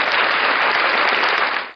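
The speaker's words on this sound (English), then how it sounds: "Just another round of applause for yourself today" Applause sound effect: a dense, loud burst of crowd clapping that holds steady for under two seconds and then cuts off.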